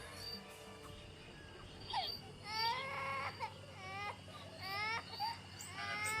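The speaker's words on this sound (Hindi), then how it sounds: "ये रोने की आवाज़ ये इस गुड़िया में से है," Faint, thin infant-like wails from inside a doll come in several short bursts, whimpering and rising against a quiet background hum.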